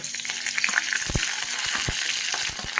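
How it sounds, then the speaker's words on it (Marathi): Spices crackle and sizzle in hot oil as tempering for a dill leaf curry, a steady bright hiss with sharp popping bursts scattered throughout, close and fairly loud. "चला फोडणी टाकूया"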